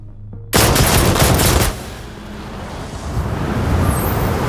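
Gunfire from enemy targets in the VR shooter game Defector, a loud, dense burst of rapid shots that breaks off after about a second, giving way to a rumbling, roaring game soundscape.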